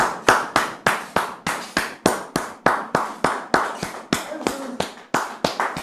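A studio audience claps to welcome a guest onto a show: a steady, rhythmic run of sharp, evenly spaced handclaps, close and fairly loud, keeping a regular beat from start to finish.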